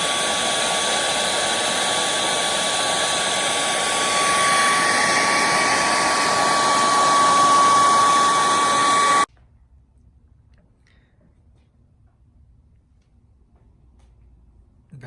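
A hair dryer or heat gun blows steadily and loudly for about nine seconds while warming a fender badge on a 2018 Ford F150, then cuts off, leaving near silence.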